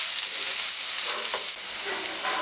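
Fish sizzling steadily in hot oil for fish Manchurian, a dense, even hiss of frying that holds for a couple of seconds with a slight dip near the end.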